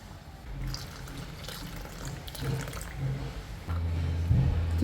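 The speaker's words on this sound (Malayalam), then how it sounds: "മിക്സിയുടെ ചാറ് കഴുകി ആ വെള്ളം കൂടി ഒഴിക്കാം" Water rinsed from a blender jar is poured into a clay pot of prawn and papaya curry, a steady close splashing and gurgling that grows fuller toward the end.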